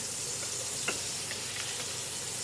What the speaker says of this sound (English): We're just basting the steak here